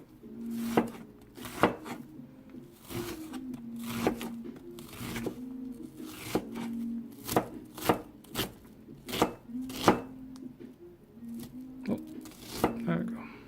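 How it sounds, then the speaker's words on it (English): Onions being chopped with a knife for a cream spinach dish, a run of sharp close thuds on the board in a loosely regular rhythm, each hit followed by a brief ring. "And cut the onions."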